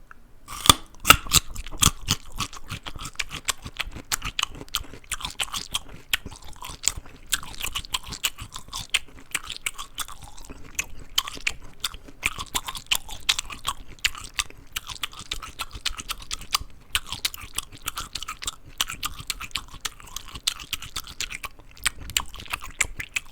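Close, crisp crunching and chewing of crunchy food in a mouth-sounds session, dense sharp bites repeating steadily without a break, loud and near with no talk.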